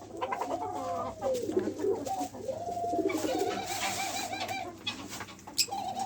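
A male laughing dove coos insistently while courting a female, giving repeated soft rolling calls at close range with rustling and faint background noise and no talking.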